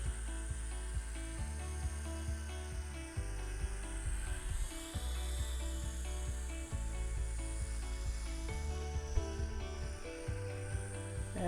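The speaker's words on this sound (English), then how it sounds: "Nice looking little electric helicopter." Syma S39 Raptor small electric RC helicopter flying outdoors in gusty wind, a continuous high whirring motor and rotor buzz that shifts in pitch as the throttle changes, close and steady throughout.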